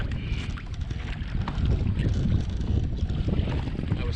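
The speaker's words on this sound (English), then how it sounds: "This wind wasn't unexpected" Wind blows across a pedal kayak drifting on the Pemi river, buffeting the microphone in a continuous rough rush that grows a little stronger partway through.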